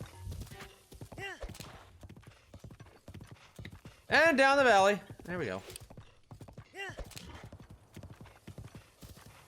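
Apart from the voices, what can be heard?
horse hooves galloping in video game Breath of the Wild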